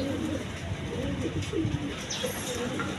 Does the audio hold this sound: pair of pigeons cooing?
yes